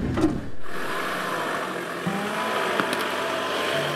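An off-road vehicle drives a short way up a steep slope during a winch recovery, its engine a steady close drone throughout with a few faint knocks and clunks.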